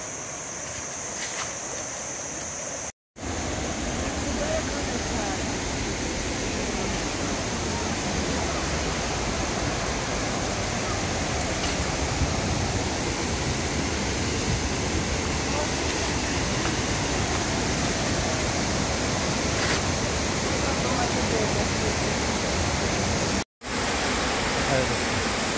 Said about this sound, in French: quand il y a la cascade, après, ça fait un grand bassin